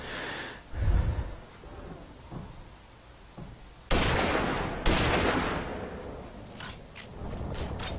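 Gunfire in the video game Tribes Ascend, played as the Sentinel class: a short burst early on, then two sharp, loud blasts a second apart, each trailing into a rumbling wash, followed by fainter scattered pops.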